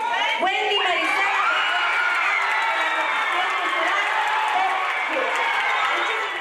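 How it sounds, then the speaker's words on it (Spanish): A crowd applauds and cheers for a newly elected queen, the Umial Tinimit Re Xelajú Noj, at a traditional ceremony in Xelajú. The dense clapping and shouting are close and loud, with voices rising over it throughout. "Les pido un fuerte aplauso para la nueva Umial Tinimit Re Xelajú Nog."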